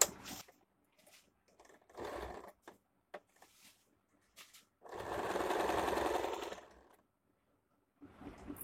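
A domestic sewing machine stitches a square-neck A-line nighty in short bursts, with one long steady run of stitching in the middle and brief starts and stops around it, close and fairly loud.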